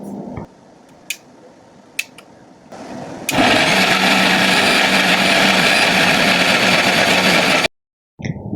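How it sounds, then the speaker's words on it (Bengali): A blender grinds dried fish, onion and garlic with a little water, starting after a few clicks and a lower whir, then running as a loud, steady high-pitched roar for several seconds before cutting off abruptly. "এখন হচ্ছে এগুলা ব্লেন্ডার করে নিব।"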